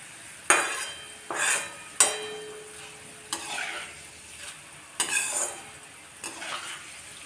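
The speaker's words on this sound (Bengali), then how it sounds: "মিডিয়াম টু লোয়ে দিয়ে আলুটাকে ভাজতে হবে" Oil sizzles in bursts as shredded potato is stirred in a pan over medium-low heat, about six separate scraping, crackling surges with quiet gaps between them.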